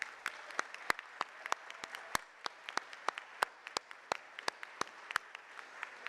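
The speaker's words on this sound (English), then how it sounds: "please give a rousing round of applause to our junior and senior class" An audience at a school prize day applauds, giving a sparse scatter of sharp, separate claps at an irregular rhythm over a quiet room, fairly close and without voices.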